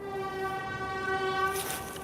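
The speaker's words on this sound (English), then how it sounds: "That's the train." A passing train sounds its horn, a loud sustained tonal blast over rumbling rail noise and clatter, close by and continuous, with no talk.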